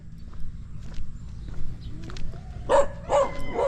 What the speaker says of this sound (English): Hold on, let me get past the dogs.